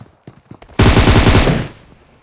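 Loud, close automatic gunfire in PUBG Mobile rips out in a rapid burst of about a second after a few lighter taps, then fades.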